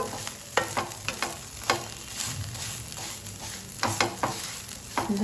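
Bitter gourd fry sizzles on a stovetop pan over medium heat while a spoon stirs it in repeated scraping strokes, with rhythmic clatters over a continuous hiss.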